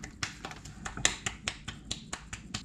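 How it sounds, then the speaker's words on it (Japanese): A small child claps hands in a home kitchen while a birthday cake is being baked, giving a quick run of sharp, light claps close by at an uneven rhythm. "何その拍手"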